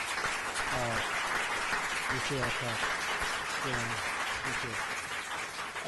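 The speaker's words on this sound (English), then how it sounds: "Let's give Robert Harris applause for his work" Audience applause at a Sierra Club environmental symposium in Hawaii, steady dense clapping throughout with voices talking over it.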